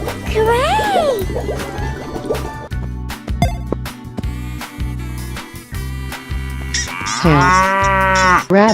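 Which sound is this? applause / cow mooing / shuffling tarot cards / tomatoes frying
cow mooing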